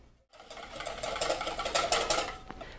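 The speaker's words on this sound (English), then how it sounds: "I'm going to start beating the egg just with a regular whisk." A regular whisk beats an egg with milk in a bowl for English muffin dough, giving a steady, close, busy rattling scrape for a couple of seconds with no voices.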